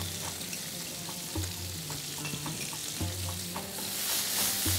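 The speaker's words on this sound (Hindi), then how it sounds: "दूसरी तरफ जो है वो फ़िश फ्राई हो रही है" Fish sizzles in a hot pan with a continuous crackling fry, close and steady, joined by faint scraping and clinks of stirring with a low hum underneath.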